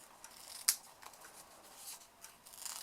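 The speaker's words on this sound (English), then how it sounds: "Cut my ribbon." Scissors snip ribbon with one sharp, close cut, followed by faint rustling of paper and ribbon at a craft table.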